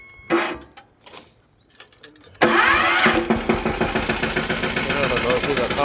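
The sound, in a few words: tractor engine running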